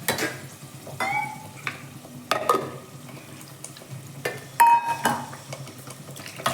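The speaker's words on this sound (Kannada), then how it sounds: "ಇದೆಲ್ಲ ಒಂದು ಸ್ವಲ್ಪ ಹಸಿ ವಾಸನೆ ಹೋಗೋ ತಕ್ಕ ಒಂದು ಸ್ವಲ್ಪ ಫ್ರೈ ಮಾಡಬೇಕು" Field beans and fenugreek frying in a pan, a soft sizzle under intermittent spoon scrapes and clinks against the metal, close and fairly quiet with uneven bursts.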